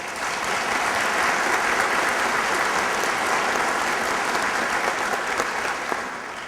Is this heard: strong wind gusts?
no